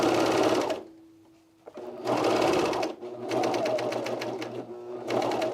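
A sewing machine stitches a camisole with a bra shelf, fold-over elastic and self binding, running in several loud bursts of rapid needle chatter separated by a brief pause, with a faint hum between runs.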